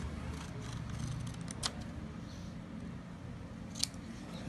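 Scissors snip through a paper cube model, with two or three short, crisp cuts heard close up against a quiet room background.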